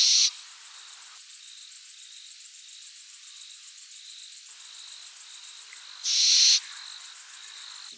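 A young owl (chouette) calls its parents at dusk, repeating a long hissing, wheezy cry at steady intervals. A dense, steady chorus of crickets or insects trills underneath throughout.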